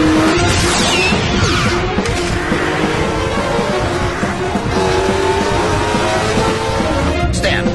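Race cars roar past at speed in an animated racing series, engines whining and swooshing with tire squeal and skidding, loud and continuous with shifting pitch as they chase toward the finish line.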